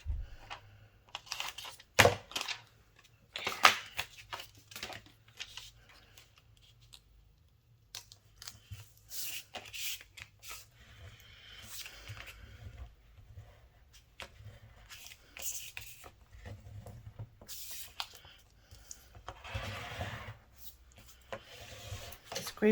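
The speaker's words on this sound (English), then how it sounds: "Scrape the front and the back, and then I'm going to peel this up." Cricut transfer tape is scraped down over vinyl on a craft project: a quiet, close, scratchy rubbing in irregular strokes and bursts, with some soft handling noises and no speech.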